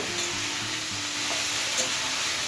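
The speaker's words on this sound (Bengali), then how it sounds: "কিছুক্ষণ ক্যাপসিকামটাকে ভেজে নেব" Sliced capsicum fries in a wok, a bright continuous sizzle with light stirring scrapes, close and steady, with no talking.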